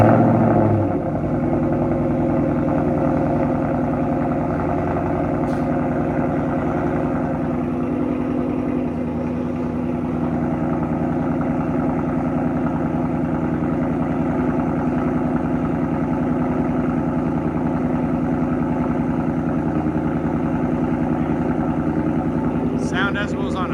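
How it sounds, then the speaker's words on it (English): A 2024 Ford Mustang GT with a 5.0L V8 and Borla ATAK cat-back exhaust idles steadily nearby, a deep, loud, even rumble that holds for the whole stretch. "2024 Mustang GT with the Borla ATAK catback system."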